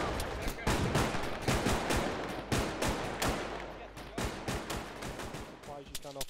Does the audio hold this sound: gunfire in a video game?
yes